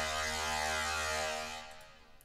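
A layered Serum synth lead patch for a hardstyle sound, holding one sustained bright, buzzy tone alone that fades out near the end.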